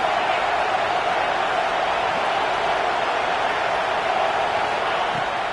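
Ohio State Buckeye football crowd in a stadium on a third down, a dense steady roar of cheering that holds at an even level throughout.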